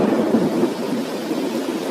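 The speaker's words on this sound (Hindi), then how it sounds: "अचानक बारिश होने लगती है" Rain and thunder break out suddenly in a children's cartoon story, a steady broadband rush of rainfall with a low rumbling roll underneath, continuous and fairly loud across the whole short stretch.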